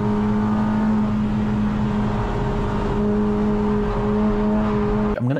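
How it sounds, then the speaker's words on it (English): A car engine drones loudly and steadily with a sustained tonal hum on a fast section of track as the driver gets back on the throttle, then cuts off abruptly at the end. "You can actually hear he gets back on the throttle a little bit too early."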